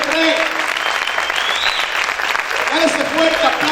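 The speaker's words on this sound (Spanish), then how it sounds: "A ese fuerte aplauso al Rey." A church congregation applauds loudly in a continuous wash of clapping while a preacher's voice calls out over it.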